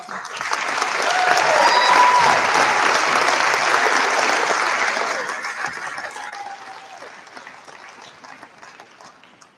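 A school audience at a senior awards night gives a big round of applause for the award recipients, the dense clapping swelling to a full peak, holding, then thinning and fading out toward the end.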